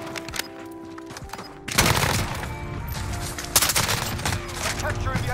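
Gunfire in the video game Modern Warfare starts after a short quieter stretch and keeps up as dense, rapid bursts of shots, with a heavier burst partway through.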